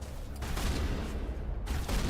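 Rifle fire in a shooter video game, a few sharp, heavy reports with brief gaps between them, loud and close, with no talk over it.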